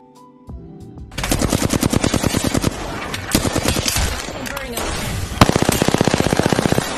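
Rapid automatic weapon fire in the battle royale shooter Apex Legends, loud sustained bursts of rhythmic shots in close succession over several seconds, with a brief pause before another sharp volley.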